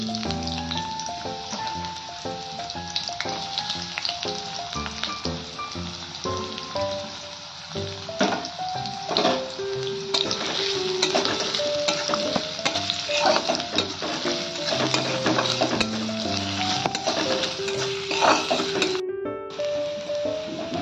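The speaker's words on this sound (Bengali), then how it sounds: "এই তেলে আমি এই যে কুচি কুচি পেঁয়াজগুলো একটু বেরেস্তা বা ভাজা করে নিচ্ছি।" Chopped onions frying in oil produce a busy sizzle under frequent stirring clatters and utensil knocks, with background music and no talking.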